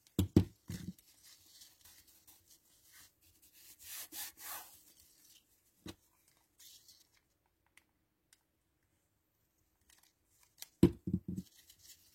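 Scissors cut through ribbon during a craft project, with a couple of short, close snipping bursts at the start and again near the end, separated by quiet handling and soft rustling.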